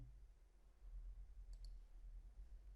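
A computer mouse gives a quick right-click, two faint sharp clicks close together over quiet room hiss.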